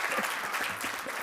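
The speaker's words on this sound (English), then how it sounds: "Pause for applause." Audience applause at a community leadership event, steady dense clapping from a crowd filling the whole moment, with no speech over it.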